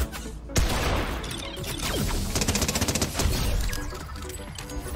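Futurama ray gun shots in Fortnite crackle amid a dense, loud burst of game effects, with a rapid run of evenly spaced pulses in the middle and heavy action noise throughout.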